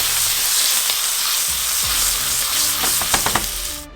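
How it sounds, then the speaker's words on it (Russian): A steak sizzles loudly in a hot frying pan, a steady broadband crackle and spit running throughout with a few soft clinks and shifts of the meat near the end, no talking. "перекладываем стейк на сковородку. И с одной стороны обжариваем 2 минуты."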